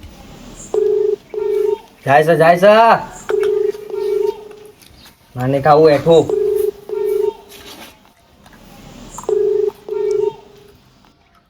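Ringback tone on a telephone line after a number is dialed: steady double beeps repeat in a regular pattern, with voices breaking in between the rings.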